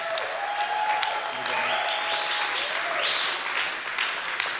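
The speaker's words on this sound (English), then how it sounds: "let's give a round of applause one more time for that exciting match." Crowd at a Brazilian jiu-jitsu tournament applauding after a match, a steady wash of clapping heard from a distance while a voice talks over it throughout.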